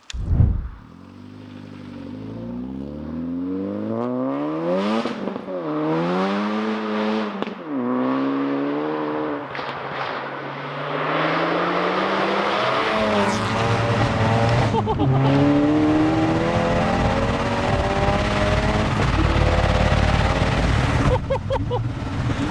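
A Stage 3 Seat Ibiza Cupra making 400 bhp starts with a sharp bark, then revs and accelerates hard through repeated rising gear pulls, loud and close from inside the car, with a voice speaking briefly.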